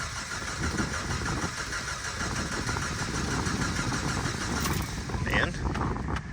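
A Jeep engine cranks without catching, the starter churning in a steady, continuous grind throughout, fairly loud and close, with no sign of the engine firing up.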